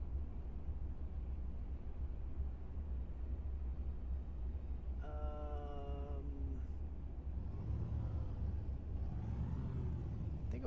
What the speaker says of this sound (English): we're gonna jump in the ship and go for a very uncomfortable ride